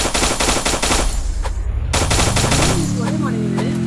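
Rapid automatic gunfire from the Free Fire battle royale game fills the clip in dense continuous bursts, loud and close, with a brief gap near the middle before firing resumes and a rising tonal sweep toward the end.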